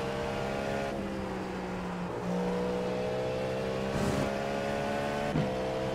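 GT3 race cars in the iRacing sim racing game drone steadily at moderate level, engine notes holding and gliding in pitch as gears shift, with no talk over them.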